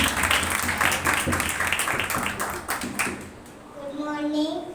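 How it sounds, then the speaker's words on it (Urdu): Loud, dense applause from a church gathering fills most of the clip, then fades out as a child starts singing a short melodic phrase near the end. "زوردار تالی بجائیے گا"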